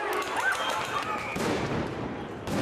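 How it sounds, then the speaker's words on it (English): Sharp, loud bangs burst out amid a chaotic, noisy crowd scene, with a dense broadband crack near the start and another blast at the end. "It was a stun grenade. Out of nowhere, I just felt this loud bang."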